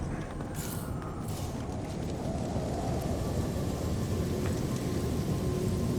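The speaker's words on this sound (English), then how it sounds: "this place is awful with the storms" Thunderstorm in the space game No Man's Sky, a steady heavy roar of rain and rumbling wind filling the scene, with no talking.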